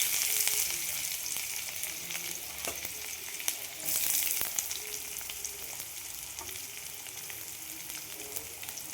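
Fennel, mustard seeds and onion frying in a pan for a stuffing: a continuous bright sizzle, with crackles and a few stirring clatters and scrapes rising briefly at times, close and steady throughout.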